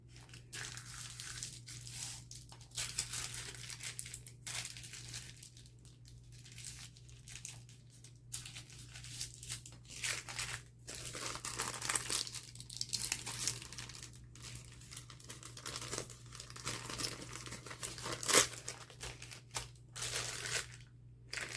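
Paper being folded and creased into a pocket envelope, a quiet, close crinkling and crumpling with rough rustles and sharp crackles running continuously over a faint steady hum, no voice.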